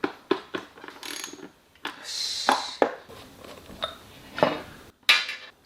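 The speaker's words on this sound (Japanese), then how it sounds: "10mm のソケットで外していきます。" A 10mm socket wrench works loose the carburetor bolts on a Honda 2-horsepower outboard motor, with scattered metallic clicks, ratcheting and clinks of tool on metal in short irregular bursts, close and fairly quiet.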